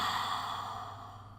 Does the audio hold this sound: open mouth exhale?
yes